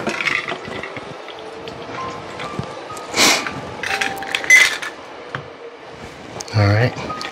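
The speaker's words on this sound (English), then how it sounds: "Okay, let's pour it in there." A drink, a Halloween cocktail, is poured into a cup, giving soft gurgling liquid splashes in short bursts close by, with a person talking quietly over it.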